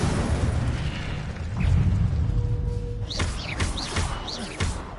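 The Incendio fire spell cast repeatedly in a wizard video game, a run of booming bursts and whooshing flares with whistling sweeps, loud and close.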